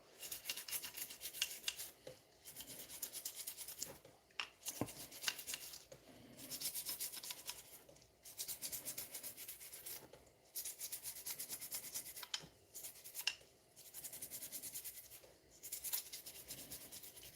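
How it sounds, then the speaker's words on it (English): A toothbrush soaked in lacquer thinner scrubs paint off a vulture model in steady bursts of rough, close brushing, separated by short pauses, with no voices. "I just sit here and play with lacquer thinner and a toothbrush"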